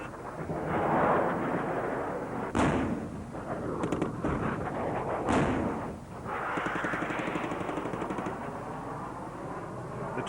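Ten military aircraft make an attack run at an air show on a simulated rebel village target, with distant rumbling blasts and two sharp explosive bangs over a continuous roar, fairly faint.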